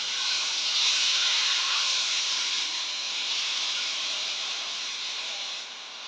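Masala powder hits hot oil in a pan for chicken gravy, giving a loud, steady, close sizzling hiss that holds evenly for several seconds and eases slightly at the end.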